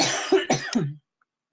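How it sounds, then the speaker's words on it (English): Three harsh coughs from a webinar presenter with a sore throat, close and loud in quick succession, followed by silence. "I start talking too much, I start coughing."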